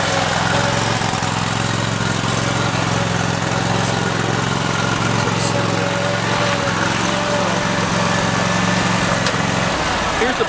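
A small lawn mower engine drones steadily at close range, loud and unbroken, then cuts out near the end.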